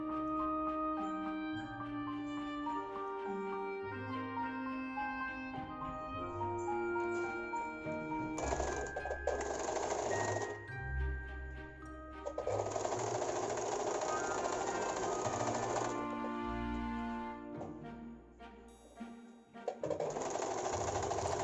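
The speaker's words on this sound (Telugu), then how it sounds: "కుడుతున్నాను." A sewing machine stitching a fish-cut saree petticoat runs in close, rapid mechanical bursts, a fast whirring clatter that starts and stops several times with short pauses between runs.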